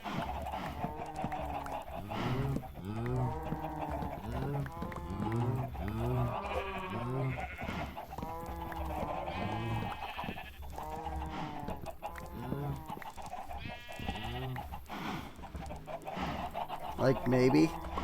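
Farm animals in the video game Ancient Kingdoms, chickens clucking and crowing alongside bleating livestock and cows, a dense, steady layer of overlapping calls running throughout.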